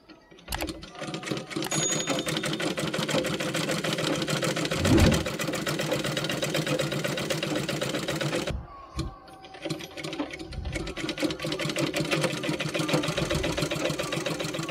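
A faulty sewing machine that skips stitches runs continuously with a loud, rapid mechanical clatter, pausing briefly midway before starting up again.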